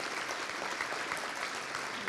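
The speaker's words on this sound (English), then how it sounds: "Let's give them all a round of applause." Steady applause from an audience honoring award recipients at an annual meeting and awards presentation, a dense, even wash of clapping filling the whole short stretch.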